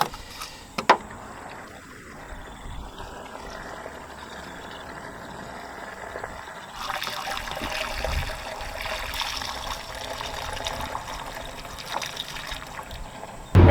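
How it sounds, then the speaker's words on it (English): A gallon of lacquer thinner pours into a car's gas tank, heard as a steady liquid trickle that starts faint and grows fuller and louder about halfway through, with no talking over it. "you add 1 gallon of lacquer thinner to it"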